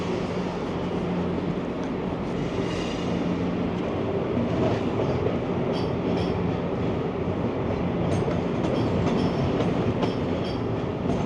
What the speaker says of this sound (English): There goes a Via train